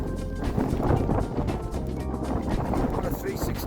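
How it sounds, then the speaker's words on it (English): Strong wind gusting across a hilltop along the West Highland Way, a steady low rumbling roar on the microphone throughout, with a person talking over it. "Very, very windy."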